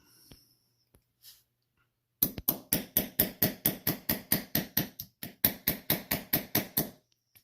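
A hammer strikes a punch to drive out the pins of an Aragon Bio-Lum watch bracelet held in a plastic holder, giving a sharp, close, rhythmic series of about twenty taps after a few faint clicks.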